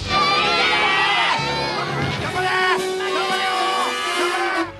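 Classmates in a Japanese tokusatsu TV series (Megaranger) shout and cheer together in support, a dense, loud crowd of young voices sustained throughout.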